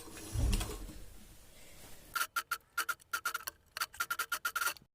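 Sewing machine stitching a folded collar neck, short bursts of rapid ticking stitches broken by brief pauses, quiet and close, after a soft handling thump at the start.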